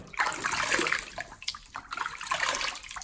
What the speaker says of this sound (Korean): 이런 물소리가 들리죠?